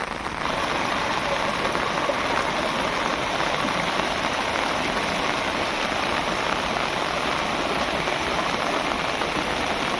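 Monsoon rain, the first of the season in the Konkan, falls in a steady, even hiss of drops on surfaces, unbroken from start to finish and fairly soft.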